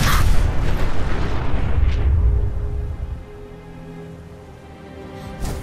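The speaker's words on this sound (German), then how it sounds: "Nette Explosion." A loud in-game explosion in Fallout 4 booms at close range, its deep rumble dying away over a few seconds into a quieter low hum, ending with a short sharp pop.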